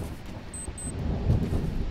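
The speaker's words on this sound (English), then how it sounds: "there's heavy rain and thunderstorms throughout most of the county" Low rumbling thunder rolls through a video game thunderstorm in a British life simulator, a deep steady grumble swelling slightly toward the end, with no voices.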